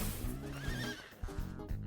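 A horse in a video game lets out a quiet, fairly brief whinny with a faint hoof clop, heard alone.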